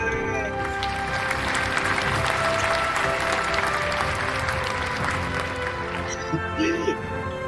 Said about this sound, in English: Let's all give a cheer to our President of the Philippines, Bongbong Jr.